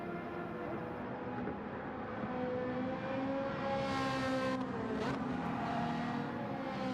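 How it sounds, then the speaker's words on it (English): A Ferrari engine in the Gran Turismo 7 racing game, holding a steady, loud high-revving drone with layered harmonic tones that shift in pitch, heard alone throughout. "That Ferrari engine just sounds so nice."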